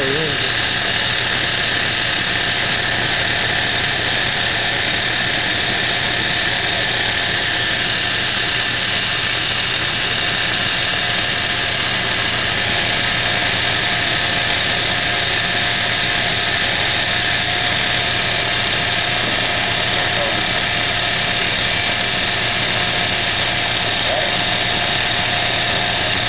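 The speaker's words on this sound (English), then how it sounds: "We're looking at a 318 fuel engine." A 318 V8 engine runs steadily at idle on gas fumes, a loud continuous mechanical drone with a high whine and no pauses.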